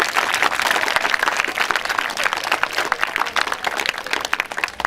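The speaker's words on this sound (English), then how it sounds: "Big round of applause for the whole team of the school." A crowd applauds steadily at a school Constitution Day celebration, dense hand-clapping filling the whole stretch at a fairly loud, close level with no speech over it.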